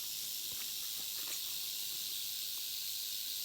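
A rattlesnake beside a hiking trail gives a steady, fairly faint buzzing hiss that runs continuously without pause, with a few soft scuffs of movement nearby.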